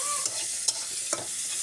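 A pan of turnip, potato and egg curry sizzles steadily while a spoon stirs it, with a few sharp scrapes against the pan rising above the constant frying hiss.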